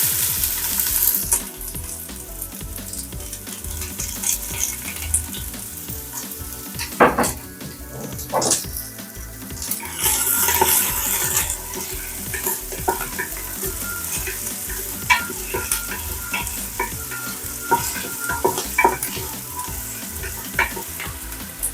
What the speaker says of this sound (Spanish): empezamos a sofreír, comenzando por la cebolla.